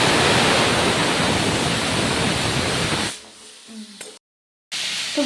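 Tomatoes sizzling in hot oil with panch phoron, salt and turmeric, a loud, steady broadband hiss for about three seconds before it drops sharply to a quieter, clattery background and then briefly cuts out.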